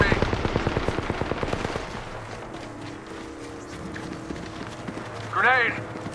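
Rapid gunshots in the video game Apex Legends, fired as a fast repeating burst that fades after about two seconds, followed by quieter game ambience and a short chirp.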